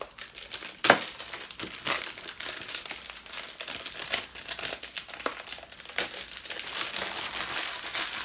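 Plastic wrap crinkles close up while a Final Fantasy edition WonderSwan Color is unboxed, with continuous rustling and sharper crackling bursts through the whole stretch, quiet and without talk.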